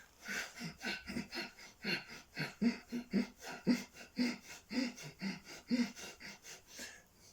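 Forceful rhythmic breathing exercise resembling sawing wood, a series of about a dozen rasping in-and-out breaths repeating at an even pace, close and fairly loud with no talking.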